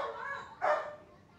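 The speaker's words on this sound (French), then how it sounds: "Casse les couilles ce chien." Dog in Bali heard close by, a single brief bark or yelp rising out of low background noise and fading quickly.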